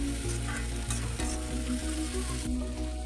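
Capsicum strips fry with onions in a hot pan as they are stirred, a loud, close, continuous sizzle with scraping stir strokes throughout.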